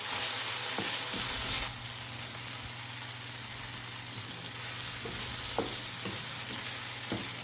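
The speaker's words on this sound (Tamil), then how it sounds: "அந்த அளவுக்கு ஒரு 10 செகண்ட்ஸ் நல்லா வதக்கி விட்டுக்கோங்க" Tomatoes sauté in a pan while mushroom rice is being cooked, giving a steady soft sizzle throughout with a few light clicks of stirring, close and alone without any voices.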